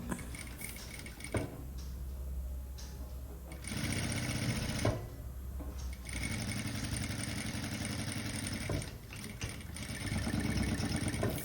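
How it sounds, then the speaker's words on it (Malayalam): A sewing machine stitches the main cloth in short runs, its steady rapid whirring starting and stopping several times, close by and moderately quiet. "ഇതുപോലെ വലിച്ചു പിടിക്കാതെ പതുക്കെ സ്റ്റിച്ച് ചെയ്തെടുക്കണം"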